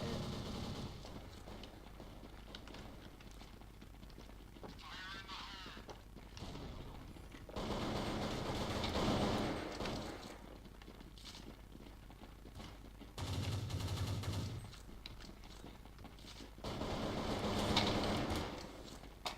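Bursts of gunfire from the top-down shooter CS2D, arriving in several loud clusters separated by quieter stretches, with rapid repeated shots in each burst and no talking.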